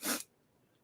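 A single short, faint sneeze bursts out and ends abruptly, followed by near silence.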